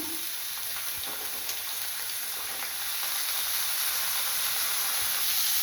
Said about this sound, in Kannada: ಹಾಗಲಕಾಯಿ ಹಾಕ್ಕೊತಾ ಇದ್ದೀನಿ